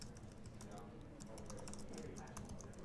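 Rapid, irregular clicking of computer keyboard keys, fairly close and quiet, with a faint voice underneath.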